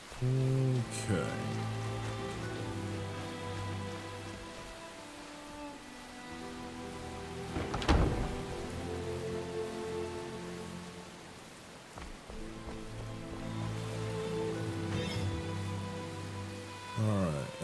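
Steady rain pours down in the video game Enshrouded, a continuous dense hiss layered over droning music tones, with a brief sharp crackle midway and no voice over it.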